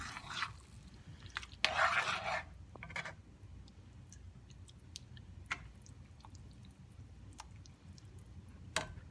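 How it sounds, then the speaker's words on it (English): Tempered stroganoff sauce stirred in a pan: soft wet squishing and scraping strokes come early, then quieter scattered clicks and ticks of the spoon, close but faint, with no voices. "Stir, stir, stir."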